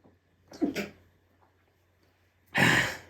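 A quick double-burst sneeze, then a pause, then a second louder, sharper sneeze close to the microphone.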